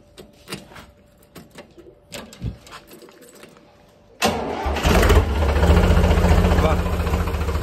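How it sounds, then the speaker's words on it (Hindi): A tractor engine cranks and fires up, settling into a loud, steady diesel running idle after a few seconds of quieter background sounds and bird calls. "ट्रैक्टर कर दिया स्टार्ट ते"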